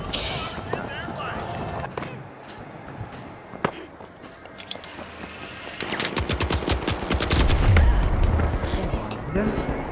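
Rapid automatic gunfire from a match of the arena shooter The Finals, with dense bursts and sharp cracks that grow louder and busier in the second half, over a steady bed of game noise.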